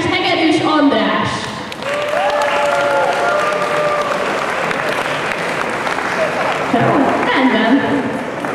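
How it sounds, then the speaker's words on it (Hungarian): Audience applause at a Hungarian fan convention awards ceremony, steady dense clapping filling most of the stretch with a crowd murmur and a voice speaking over parts of it. "de nagyon nagy tapsot kérek"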